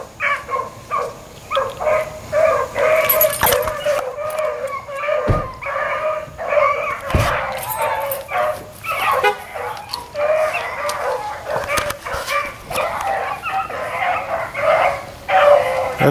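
A dog barks, yips and whines almost continuously, close and loud, with a couple of sharp thumps among the cries.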